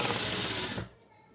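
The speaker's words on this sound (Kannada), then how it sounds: "ಈಗ ಮಾರ್ಕಿಂಗ್ ಮಾಡ್ಕೊಂಡಿದ್ದೀವಲ್ಲ ಅದ್ರ ಮೇಲೇ ನೀಟಾಗಿ ಸ್ಟ್ರೈಟಾಗಿ ಒಂದು ಸ್ಟಿಚ್ ಮಾಡ್ಕೊಬೇಕು" A sewing machine stitching a blouse runs in a fast, steady whir for under a second, then stops and leaves a faint quiet hum.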